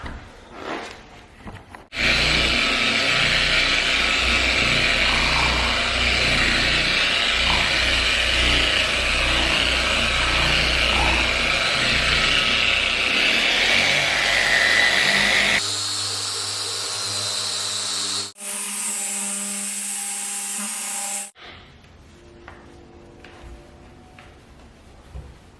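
Rotary polisher buffing scratched car paint with Meguiars M105 compound and M205 polish, a steady loud whirring drone that shifts pitch partway through, then cuts out and gives way to quieter sounds near the end.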